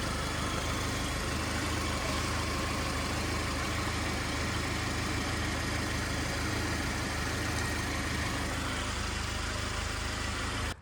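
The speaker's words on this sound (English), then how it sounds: "you can hear it kind of whining. So what that whining means is the filter is getting restricted" A car's engine runs steadily nearby while a faint transmission whine from a clogged pump filter rides above it, a continuous drone with no talking.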